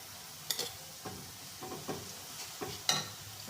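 Cumin seeds sizzle in hot oil with fried onions, a faint crackling hiss punctuated by soft stirring scrapes and small clinks at irregular moments.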